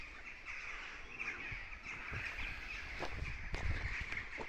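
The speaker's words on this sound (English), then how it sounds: "crows doing their bit." Crows calling outdoors along a riverside walk by the River Tay in Scotland, a few scattered caws and bird calls at moderate distance over a constant background hiss of water and wind.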